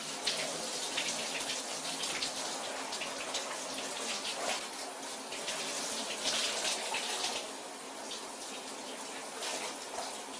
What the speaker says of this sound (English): You watching me wash my body.